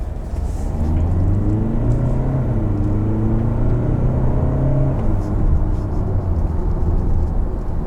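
A Hyundai Santa Fe's diesel engine revs up loudly in sport mode, heard from inside the car, a steady heavy rumble with rising and falling tones that holds throughout.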